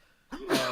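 A single sudden sneeze-like burst from someone nearby, sharp and breathy, rising out of near silence.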